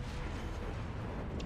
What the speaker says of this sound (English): time to try my third gun. This is, after all, would be one volley essentially